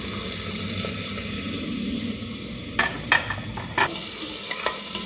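Vegetables cooking in a pan with cumin and bay leaf give a continuous close sizzle, broken in the second half by several sharp scraping stirs of a utensil against the pan.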